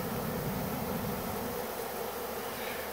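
A swarm of honey bees lifts off from a clump on the ground in a bee yard, making a dense, steady, loud buzzing drone that fills the whole moment without a break.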